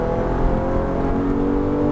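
A Porsche GT3 race car at full throttle on the Nogaro circuit, heard from inside as a loud, steady, dense engine drone that holds at high revs throughout.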